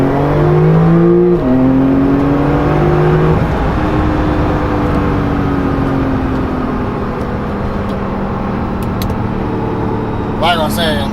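A Porsche 911 Turbo S engine revs in a racing video game, a loud, steady droning tone that climbs and then drops in pitch with each gear change before settling into a long, even cruise.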